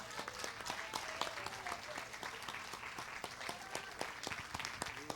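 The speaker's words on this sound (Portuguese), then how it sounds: "Tu podes aplaudir o Senhor Jesus?" A church congregation claps at a steady pace during a worship service, a faint, even patter of applause continuing throughout with little else heard.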